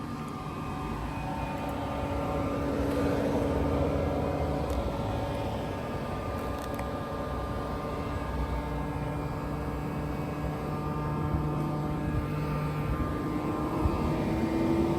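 A Tesla car's air conditioning runs as a steady, moderately loud whirring hum with a constant low drone and no voices.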